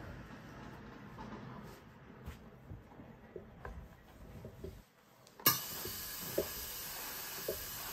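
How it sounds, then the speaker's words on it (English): Philips 6300 series steam iron locked into constant steam, a steady close hiss that drops briefly then returns as a brighter, louder continuous jet with a few small clicks. "you can lock the button as well, so it constantly produces steam"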